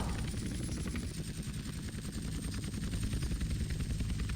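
An airplane flying in Grand Theft Auto San Andreas sounds as a faint, rapidly pulsing engine drone that chugs evenly and continues without a break, with no speech.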